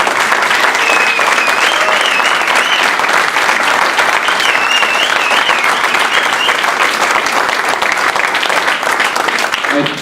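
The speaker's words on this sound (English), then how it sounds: "Let's give a big round of applause for our guests." Loud, dense audience applause for guests at a St. Louis FC soccer club town hall, sustained evenly from start to finish with no gaps.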